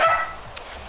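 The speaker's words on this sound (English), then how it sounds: "Dog! Stop it." A single quick dog bark in a room, near and fairly loud, followed by a faint click.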